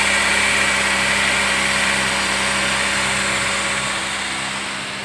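A 2015 Toyota Avanza Veloz engine is held at a steady 2000 rpm during an engine-cleaning treatment, giving a loud, constant, even drone that eases slightly toward the end, with no one speaking.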